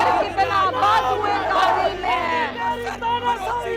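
Dense crowd of protesters shouting and chanting at a demonstration at Jantar Mantar, many overlapping voices close by in a continuous loud roar.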